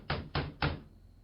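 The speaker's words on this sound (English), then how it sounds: "knocked on the front door" Three evenly spaced hollow knocks on the front door of a dark farmhouse, close and fairly loud, followed by silence.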